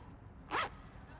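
A single quick zipper pull, close and crisp, lasting about a quarter second against a quiet low hum.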